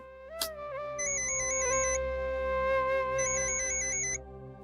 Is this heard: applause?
no